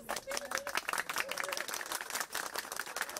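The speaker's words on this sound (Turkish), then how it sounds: "Binali Yıldırım Silivri'de alkışlarla karşılandı." Crowd at a political campaign rally in Silivri, Istanbul, claps and cheers for a mayoral candidate, busy overlapping applause mixed with voices and a brief melodic call above the noise.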